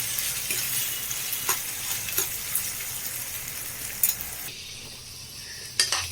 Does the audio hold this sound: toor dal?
yes